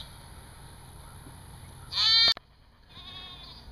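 A goat, kept in a temporary kennel by a house while rising water floods its pen ahead of Hurricane Harvey, lets out one short, loud bleat over steady background noise, followed by a fainter cry.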